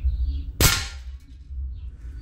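A single sharp, loud crack from a Diana B57 .177 calibre PCP air rifle, fired at a 10-metre target, rises out of a low, steady background hum and fades quickly.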